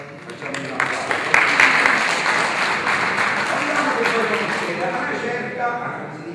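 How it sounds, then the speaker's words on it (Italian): Audience applause at an awards ceremony in Castiglione, a dense steady clapping that swells and then holds for several seconds, with a voice speaking over it. "per noi inizialmente la nostra Luna di Tino, facciamo un applauso."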